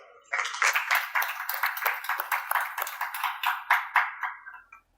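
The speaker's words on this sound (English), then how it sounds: "Please, in a minute, give him a sufficient round of applause" Scattered audience clapping for a guest speaker at a college event, a few hands close by, clapping in uneven bursts that swell briefly then thin out and stop after a few seconds.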